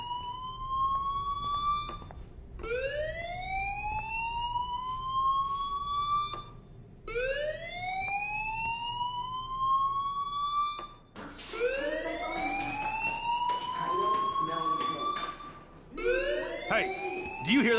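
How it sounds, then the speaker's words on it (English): In the video game Life Is Strange, a fire alarm wails in repeated rising sweeps, each lasting a couple of seconds, growing faster and more layered toward the end while a voice talks over it. "Hey, do you hear that fire alarm?"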